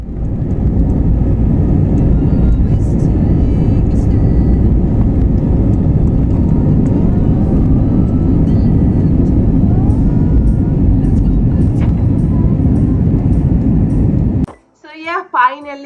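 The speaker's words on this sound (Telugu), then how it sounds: "ఫైనల్గా ఇంకా ఫ్లైట్ అయితే టేక్ ఆఫ్ అయిపోతూ ఉంది" Jet engines roar steadily inside a passenger airliner cabin during takeoff on a flight to Chennai, a loud, constant, low rumble that cuts off abruptly near the end, giving way to brief quieter sounds.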